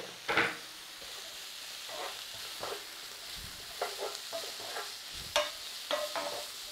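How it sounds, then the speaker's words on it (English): Vegetables for ratatouille stirred in a pan with a utensil, a few soft scraping and clinking strokes spaced out over a quiet, faint sizzle. "Little stir around."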